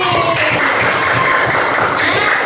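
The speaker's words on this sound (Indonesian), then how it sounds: "Tepuk tangan dulu untuk Rizky." Pupils in a classroom break into sustained, loud applause, a dense continuous clatter of many hands clapping at close range for the whole stretch.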